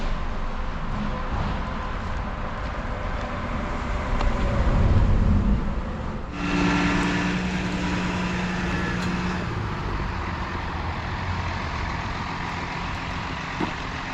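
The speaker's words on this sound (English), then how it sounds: "cars on these back roads are just flying by" Traffic on a back road under the turnpike: a steady roadway rumble with a vehicle passing close and loud midway, followed by a tonal hum fading off, then continued wash of passing cars.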